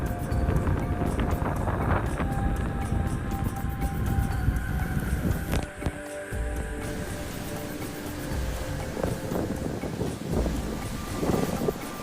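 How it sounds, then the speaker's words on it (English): Strong hurricane wind gusts during Hurricane Florence with rain, a steady roaring rush that swells and dips, with a brief lull in the middle before the blowing picks back up, loud and close to the microphone. "seeing the first real strong gusts of wind."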